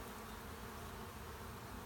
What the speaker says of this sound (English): And there are now a lot of bees in this hive.